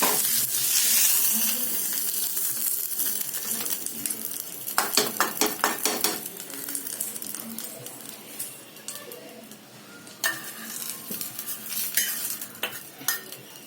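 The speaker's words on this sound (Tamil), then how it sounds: "இப்போ இதை அப்படியே அந்த சாதத்தோடு சேர்த்து நல்லா மிக்ஸ் பண்ணி விட்டுக்கலாம்." A spoon stirs sambar into cooked rice in a pot, with soft wet squishing and repeated sharp scrapes and clinks of metal against the pot, some in quick bursts, close and without talk.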